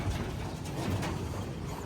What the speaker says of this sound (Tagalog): Meron pang ibon dito sa taas, wait natin bumaba.